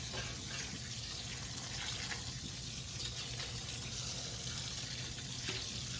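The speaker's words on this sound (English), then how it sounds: "I'll cover it right up again here and give it a rinse. Just doing it with cool water." Cool tap water runs steadily into a large metal pot being rinsed at a sink, a continuous gushing hiss lasting several seconds with no talk.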